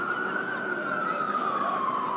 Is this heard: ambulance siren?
yes